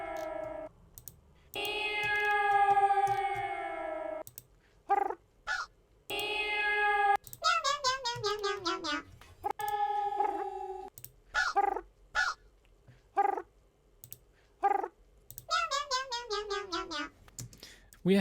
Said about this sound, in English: We have a lot of cat-related sounds,